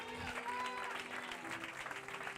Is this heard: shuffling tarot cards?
no